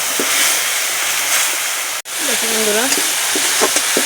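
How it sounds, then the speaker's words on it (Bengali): Coriander-cumin powder and tomato fry in a pan with a loud, steady sizzle and hiss, broken by a brief cut midway, followed by a few close stirring scrapes. "এখন সুন্দর করে আমি মশলাটা কষিয়ে নেবো"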